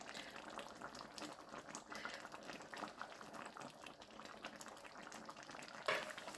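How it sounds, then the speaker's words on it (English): Ground turkey spaghetti sauce with diced zucchini simmering on low heat near a boil, a steady soft bubbling hiss with a brief louder pop near the end. "it's been simmering, and it's actually trying to boil"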